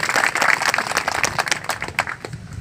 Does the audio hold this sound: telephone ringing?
no